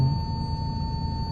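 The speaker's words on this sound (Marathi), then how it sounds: "सेन्सरचा आवाज आहे गाईस, सेन्सरचा आवाज आहे बॅकग्राऊंड" A car's parking sensor emits a steady continuous electronic tone, loud and alone with a low engine hum beneath it.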